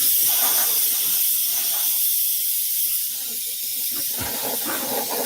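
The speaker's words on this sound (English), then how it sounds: "use the airbrush to dry it back somewhat." An airbrush hisses steadily and close over a model road scene near a bridge, its continuous breathy spray filling the whole stretch with faint clicks and fluttering beneath it.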